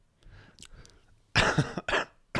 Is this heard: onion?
no